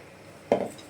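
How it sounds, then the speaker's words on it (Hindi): A mixer jar being washed in a home kitchen as water is added: one brief, close hollow clunk and rattle breaking a quiet background, with no talking. "थोड़ा मिक्सर धुल के पानी डाल देती हूँ।"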